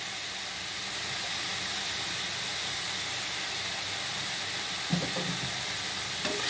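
Mixed vegetables with spinach and turmeric fry in a pan with a continuous even sizzle and hiss, and a couple of soft stirring knocks come near the end.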